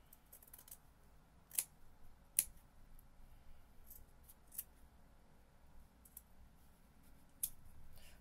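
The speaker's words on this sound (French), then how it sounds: "Je prends les ciseaux d'une certaine manière." Scissors cut through fabric for a Birkin skirt, heard as faint, sparse snips with a few sharper clicks scattered across a quiet stretch, no voices.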